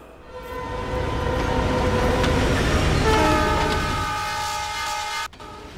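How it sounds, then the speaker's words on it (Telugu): Train passing in a movie scene near a beach, a rumble that swells and fades with a sustained horn blast over clattering wheels before it cuts out. "అలల శబ్దంతో పాటు రైలు శబ్దం కూడా వినపడుతోంది"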